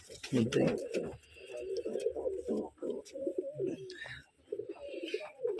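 Gerebaj pigeons coo in low, throaty, continuous murmurs close by in a loft in Rajshahi, with soft flutters and occasional rustling throughout.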